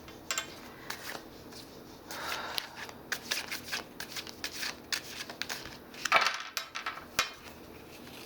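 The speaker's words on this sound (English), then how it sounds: "now I have shuffled and meditated on the decks. I'm going to shuffle just briefly here" Tarot deck shuffled briefly before a reading, a series of close, quiet card riffles and flicks in uneven bursts with short pauses between, no talk.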